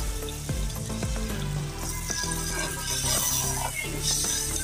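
Onions and chicken sizzle hard in a pot for chicken handi as tomatoes are tipped in, a loud, steady crackling fry with some stirring clatter and no talking.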